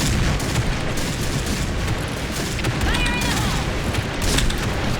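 Sniper rifle fire rings out in the shooter game Point Blank, sharp reports buried in a dense, loud wash of in-game gunfire and noise, with faint voice-like sounds mixed in.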